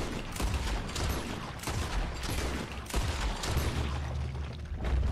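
Shotgun blasts from a double-barreled shotgun in Red Dead Redemption 2, loud repeated booms at irregular intervals over a dense outdoor game soundscape.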